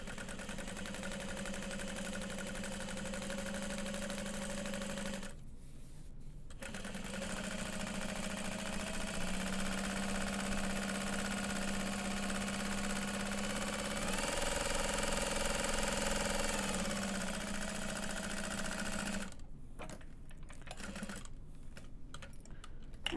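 A sewing machine set to a long stitch length runs steadily around all four sides of a tote bag strap, a continuous mechanical whir with brief pauses and a stop-start patch near the end.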